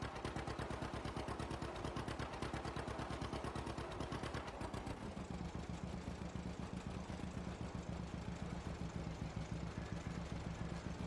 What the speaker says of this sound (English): One of the benefits of a tractor like this, Evan, you can pretty much turn on a dime